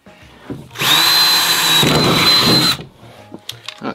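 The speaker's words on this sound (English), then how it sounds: "So I got my 3/8 drill bit. And I'm just going to drill through those little marks I made." A power drill with a 3/8 bit bores through a wooden board, a loud, steady whine lasting about two seconds with a brief dip midway, framed by quieter handling noises.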